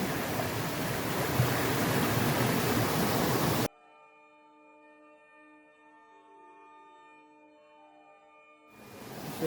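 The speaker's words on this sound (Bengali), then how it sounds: "ওয়াংপা ঝর্ণা" Rushing water at Wangpa waterfall roars loud and steady, then cuts off abruptly and gives way to a quieter, hum-like tonal layer before the broad roar returns at the end.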